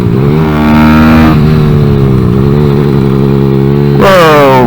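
Kawasaki Z125 motorcycle engine fitted with a shift kit, heard up close from the rider's position, revs hard and steady, with pitch drops as gears change and a sharp rise near the end during downshifting.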